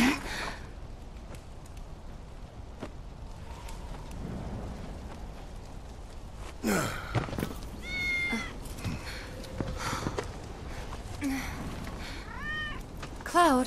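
Cat meowing in the Final Fantasy VII Remake video game, several drawn-out, wavering meows in the second half over steady game background ambience with rumbling effects, fairly faint, preceded by quieter game sounds.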